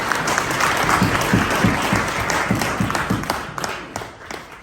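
A conference audience in the British Parliament claps, loud and close at first and thinning into scattered individual claps toward the end.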